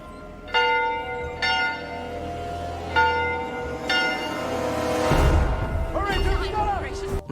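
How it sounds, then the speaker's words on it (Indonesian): A village warning bell rung by a border guard tolls in slow, loud strokes about once a second, each ringing out with bright overtones, before a rumbling crash and a frantic jumble of voices and other noise take over. "si penjaga membunyikan lonceng yang membuat penduduk desa panik"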